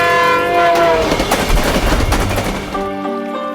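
A Kanchenjunga Express train rattles past in a loud rushing, clattering burst over a sustained tonal hum, the clatter fading out near the end while the hum lingers.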